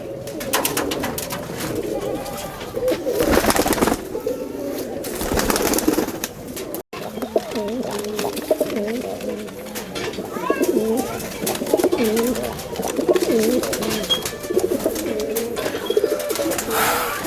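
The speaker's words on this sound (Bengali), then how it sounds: "এটা আপনার ময়না জাগ কবুতর রাশিয়ার মধ্যে এটা অনেক একটা বিখ্যাত কবুতর" Steady, overlapping cooing of several Mayna jag pigeons, soft throaty calls rolling on continuously, with occasional faint chirps and rustling in the background.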